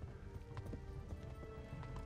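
Horse hooves gallop at a steady, rapid clip-clop rhythm in the medieval video game Kingdom Come: Deliverance, close and continuous over a low rumble for about two seconds.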